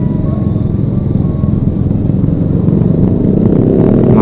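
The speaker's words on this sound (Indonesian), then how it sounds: "Macetnya luar biasa, ramai." Heavy festive traffic jammed on Jalan Agus Salim in Bukittinggi, with a dense, steady roar of motorcycle and car engines close by, loud and unbroken, with no voices.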